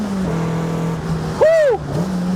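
A Peugeot 309 GTi engine revs high while driving, a steady loud drone with a rising and falling sweep of harmonics mid-clip, close and continuous.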